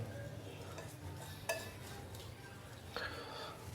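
Makki roti batter of maize flour being mixed with lukewarm milk in a bowl, soft wet stirring with a couple of sharp utensil clinks, fairly quiet against background noise.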